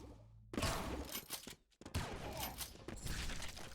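Rapid weapon fire in the arena shooter Doombringer, with loud, dense bursts of blasts and impacts, a brief near-silent gap midway, then another sustained barrage.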